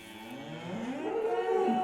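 A young calf moos in a long, rising bellow, close and steady, with no other sounds around it.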